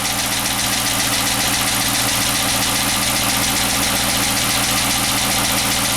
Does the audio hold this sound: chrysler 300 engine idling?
yes